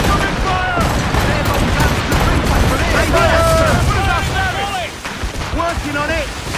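Cannon volleys and gunfire keep booming through a naval battle in Assassin's Creed Rogue, continuous and loud, with overlapping shouts from the crew and voices talking throughout.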